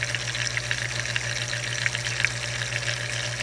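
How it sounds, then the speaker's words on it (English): An aquarium filter runs with a constant low electrical buzz under a fizzing, gurgling wash of water, broken by small irregular bubbly pops and burps. "And it gurgles and burps and buzzes and stuff."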